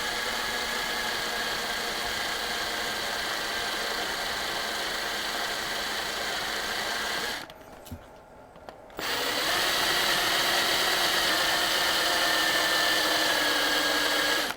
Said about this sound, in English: The drill bit's actually pretty dull from all the resin it's been drilling.